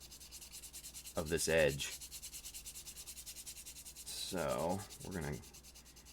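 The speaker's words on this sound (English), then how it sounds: "Since this is more of a an outward curve, we're going to use the sanding block" Sanding block rubbed along the outward curve of an edge in two short scraping bursts, close and moderately loud, with a voice talking briefly over the work.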